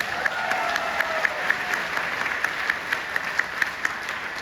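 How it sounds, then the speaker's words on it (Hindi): A seminar audience at a leadership training event claps together in a steady, dense patter, with sharper individual claps standing out at a moderate distance. "एक बार अपने अपने आप के लिए जोरदार तालियां बजाइए।"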